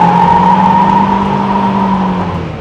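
A 2001–2005 Skoda Octavia vRS pulls hard, its engine droning with a steady, strong tone that holds close and loud for a few seconds with no talk.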